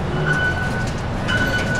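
A Taipei metro train rumbles steadily, with a low hum and a thin high whine drifting in and out, fairly close and continuous.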